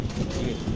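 Pigeons coo softly in a brief low murmur near a net enclosure holding young and adult birds.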